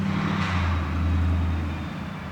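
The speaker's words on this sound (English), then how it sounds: "And another truck." A loud truck passes outside, a steady low engine rumble with broadband road noise that swells and holds for a couple of seconds before easing slightly, with no talk over it.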